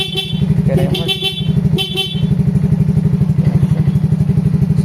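A vehicle horn sounds loudly over a running engine, honking in a few short bursts and then holding steadier, close to the listener.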